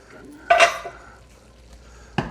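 A metal pot lid clanks sharply on cookware in a home kitchen while chili is being made, followed by a lighter scrape and a second brief clink about two seconds later.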